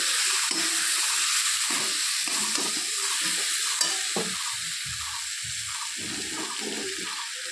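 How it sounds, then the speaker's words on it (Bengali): Fried potatoes being stirred into a pan of cooked spice mixture, giving a loud continuous sizzle with repeated scraping strokes of a spoon against the pan. "এখন এর মধ্যে ভেজে রাখা আলুগুলোকে দিয়ে দিলাম। তারপরে একটু নেড়ে চেড়ে নিচ্ছি।"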